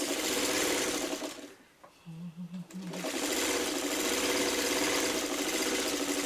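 A sewing machine runs steadily while stitching Dresden quilt medallion pieces, a loud, even whir that drops out briefly midway, with a few soft clicks and hums in the pause before the motor resumes.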